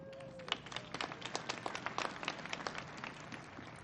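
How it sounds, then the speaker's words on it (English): Dense applause from an audience at a Colorado governor's swearing-in ceremony, steady crowded clapping that carries through without a break. "Yep, that's worth clapping for."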